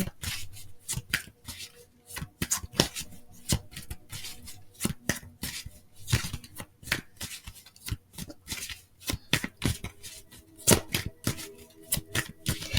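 Tarot cards are shuffled close by in a rapid, continuous series of crisp riffling slaps and flutters for the whole stretch, with no talking.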